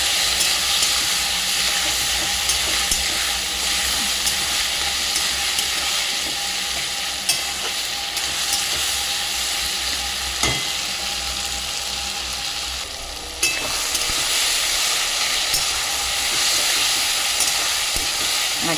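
Chicken kosa with onion and tomatoes fries in a pan, a loud, steady close sizzle and hiss with occasional scrapes and clinks of stirring.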